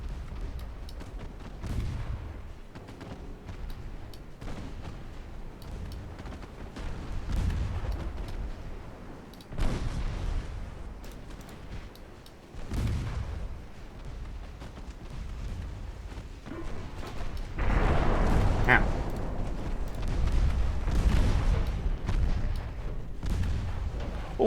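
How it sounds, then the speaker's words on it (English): Naval warfare video game combat, with a torpedo hit exploding against a ship. Repeated heavy booms and gunfire-like blasts rumble through a dense, loud battle din, with a stronger burst late on. "Oh, a torpedo hit."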